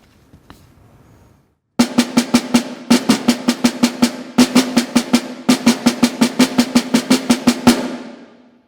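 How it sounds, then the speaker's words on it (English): Crushed buzz roll on a snare drum, played slowly: groups of short, crisp buzz strokes in a steady pulse, loud and close, ending in a brief decaying ring. "is to do what I call crushed buzz, or really short buzzes with my roll bass"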